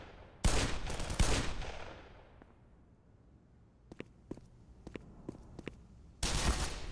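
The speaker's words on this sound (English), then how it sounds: "who's shooting at me?" Gunfire in the game Black Mesa opens with two loud, close bursts, then a quiet stretch broken by a few sharp distant shots, before another heavy burst closes it.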